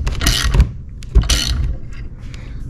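A flare tool clamp being tightened down on stainless steel tubing, with two loud bursts of ratcheting metal clicks and scraping, then lighter clicks, close up.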